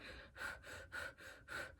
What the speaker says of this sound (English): Now that I'm thinking about it, I can breathe faster